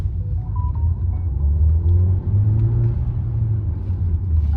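A Volkswagen Taigun accelerates from a standing launch, its engine a steady low rumble that swells gradually as speed builds, heard from inside the car with no talk.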